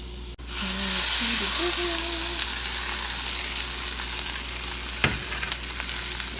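Shredded sweet potato hash sizzles and fries steadily in a pan, loud and close, after a sharp start. A faint voice comes briefly over the sizzle, and a single clatter sounds near the end.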